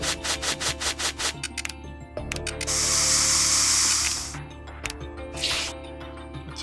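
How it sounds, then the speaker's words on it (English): Spraying in the video game Trauma Team: a rapid train of short rubbing bursts gives way to two longer hissing sprays, close and clear over a low background hum. "A little bit of spray action going on."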